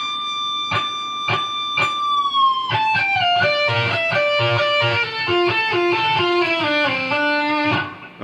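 An electric guitar plays the solo from a song: a few sharp picked notes, then a held bend that slides down into a run of sustained, singing lead notes. It is loud and close, with no talking.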